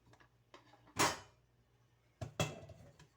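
Dry fruits and nuts, including almonds, pistachios and raisins, being mixed in a bowl: two sharp clattering knocks with a few lighter rustles and taps in between, no talking.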